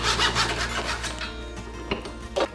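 A handsaw trims wooden X-brace stock for a guitar soundboard, steady back-and-forth rasping strokes close by, loud and continuous with no speech.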